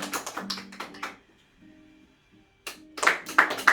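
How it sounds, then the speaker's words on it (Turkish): Hands clap at a surprise birthday gathering as the candles are blown out: a quick flurry of claps, a short lull, then a second louder burst of clapping from a small group nearby. "alkışlar olsun"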